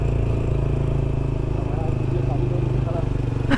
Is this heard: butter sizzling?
no